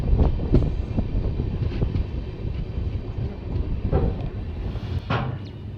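Tebhaga Express 13162 with new LHB coaches entering Eklakhi junction in the early morning, a steady loud rumble of rolling wheels and carriages with a few sharp clacks over rail joints, and wind noise throughout.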